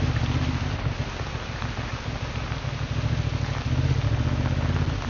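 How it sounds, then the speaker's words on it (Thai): Steady rain pours during a ride down a mountain road on a Honda XL750 Transalp motorcycle, with a dense continuous wash of drops and a low engine and wind rumble throughout, with no talking. "แต่ทำไมฝนใจร้ายกับเราจังเลย"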